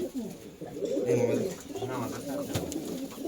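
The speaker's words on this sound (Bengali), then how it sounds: "বিখ্যাত মালবাই, সে মালবাই পায়রা এটা" Malbai pigeons coo in low, repeated throaty rolls at close range, steady through the stretch while someone speaks briefly over them.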